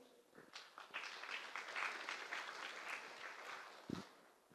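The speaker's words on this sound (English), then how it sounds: "let's give a warm round of applause to welcome Charlie" An audience claps to welcome Charlie, a speaker from Digital Domain, to the stage at a business talk on virtual humans. The applause is steady and dense, filling the room for several seconds before easing off.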